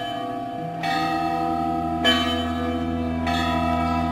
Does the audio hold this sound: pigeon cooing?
no